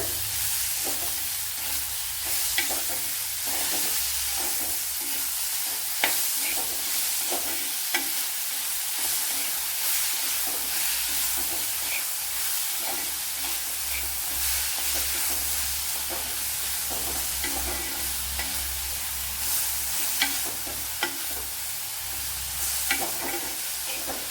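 Tapioca masala sautéed in a pan, a dense, loud, even hiss of frying throughout with faint scraping from stirring scattered across it and no voices.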